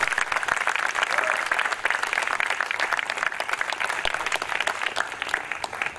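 A crowd at a Nike event breaks into a big round of sustained applause, a loud, dense wash of clapping from many people that carries on evenly for several seconds.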